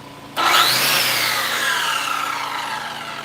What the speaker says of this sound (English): Generator seems to be taking the load